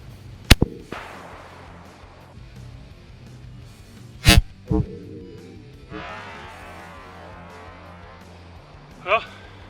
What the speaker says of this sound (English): Here we go with the Remington slugger in 12 gauge.